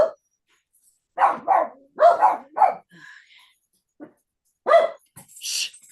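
Several dogs indoors bark in short, loud bursts clustered close together, then fall silent, before a single bark and a higher yip follow; a woman briefly hushes them.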